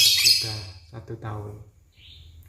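An adult lovebird that gives only simple cheeping calls rather than a full song makes short, high chirps near the start and again near the end, while someone speaks close by.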